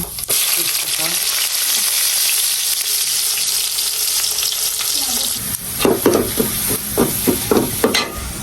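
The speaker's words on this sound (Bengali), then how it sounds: "এবার হচ্ছে বাগার দিব। দিলাম জিরা, এবার দেবো পেঁয়াজ, রসুন," Cumin, onion and garlic hit hot oil for a tempering while cooking taro greens, a loud, dense sizzle that runs steadily, then stirring clatters and scrapes break in near the end.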